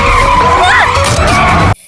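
Car tires skid and squeal loudly in a near-miss scene from the film For Love or Money, a sharp screech with a rising-falling whine that runs steadily for nearly two seconds, then cuts off abruptly.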